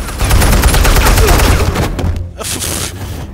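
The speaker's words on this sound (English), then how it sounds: "You just shot your own men." Rapid bursts of gunfire in Batman: The Telltale Series, a loud, dense volley for about two seconds, then a short pause and one more burst.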